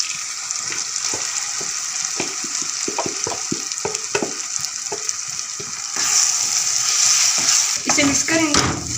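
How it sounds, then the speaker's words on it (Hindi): Boiled mung dal tipped into hot masala frying in a pan, a loud steady sizzle with repeated scraping stir strokes close by, flaring brighter near the end. "तो अब हमने इसमें बॉयल की हुई दाल ऐड करनी है।"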